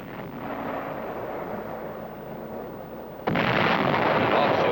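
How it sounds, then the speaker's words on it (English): Korean War artillery fire: a dense, rumbling roar of shells firing and passing over, broad and distant at first, then swelling abruptly louder and brighter partway through, with no distinct single blasts. "The sound of shells going over can be a mighty friendly sound"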